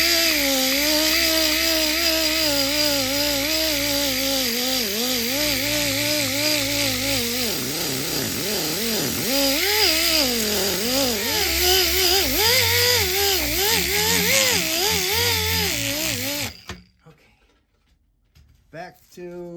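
Stainless steel trim being sanded with 3000 grit sandpaper ahead of buffing: a loud, steady, whirring abrasive grind with shifting pitch that runs for about sixteen seconds, then cuts off abruptly into near silence.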